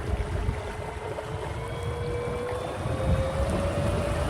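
A Momentum M10 10-kilowatt electric outboard drives a small skiff across the water, its steady whine slowly rising in pitch over constant wind and hull rush, with no talk.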